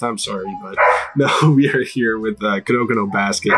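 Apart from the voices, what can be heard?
dogs barking in the background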